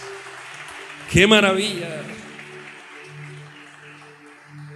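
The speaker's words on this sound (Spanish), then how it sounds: "Hermanos, aplaudan al Señor." A church congregation breaks into brief applause during a Spanish-language sermon, a sudden burst of clapping that swells and fades within about a second, with a voice speaking over it and resonant background hum.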